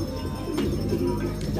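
A racing pigeon coos softly inside a loft, low rolling calls rising briefly over a constant background hum.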